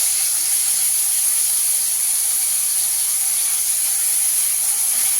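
Ginger, garlic and onion paste with green chilli sizzling in hot oil, a steady bright hiss that continues evenly and alone.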